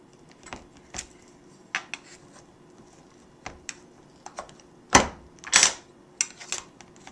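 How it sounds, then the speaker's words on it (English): A knife cutting through gluten-free date bars on a hard surface, with scattered taps and clacks at irregular intervals and a louder cluster of cutting knocks toward the end, close and otherwise quiet. "I just cut them into bars, and you can cut them any size you like."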